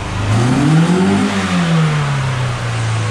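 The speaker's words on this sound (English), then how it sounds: "Modulate the RPM up and down. Up and down. Redline it." Nissan 240SX engine, an auto-to-manual car with no clutch, revving up toward redline at its first start, a loud close rising whine that peaks and then eases back down, heard alone.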